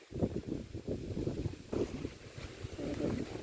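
Dry wind gusting across open farmland during an approaching storm in Laos, a steady rushing roar with fluctuating intensity and buffeting against the microphone throughout.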